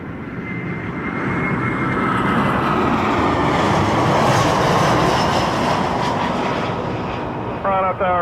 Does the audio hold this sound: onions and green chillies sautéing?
no